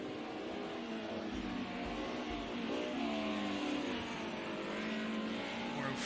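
DTM race car lapping the track at Oulton Park, a continuous moderately loud engine drone with shifting pitch sweeps as it accelerates and changes gear, steady throughout.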